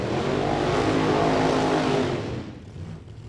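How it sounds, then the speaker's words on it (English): Gasser drag racing cars at the California Hot Rod Reunion roar loudly past at close range, a dense engine blast that fades sharply in the last second as they pull away. "Here come the gassers, and Steve LaBarbera coming in."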